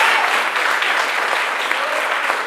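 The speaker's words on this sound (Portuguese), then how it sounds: "Vamos aplaudir Jesus" A church congregation applauds Jesus during a sermon, a steady, dense wash of clapping hands that stays loud and even from start to finish with no voices standing out.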